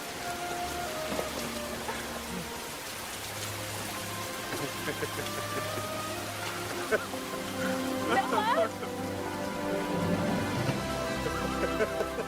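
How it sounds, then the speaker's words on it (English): Rain falling in a film scene from The Notebook, a steady hiss of downpour blended with swelling background music, continuous and fairly loud throughout. "when it starts to rain"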